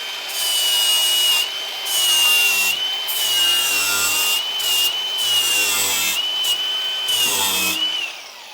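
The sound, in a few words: aluminum oxide flap disc sanding metal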